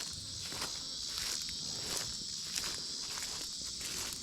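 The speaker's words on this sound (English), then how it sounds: "oh man, the mosquitoes are bad in here." Insects buzz and whine steadily in a wooded trail area where mosquitoes are thick, a constant high-pitched drone with faint rustling footsteps underneath and no talking.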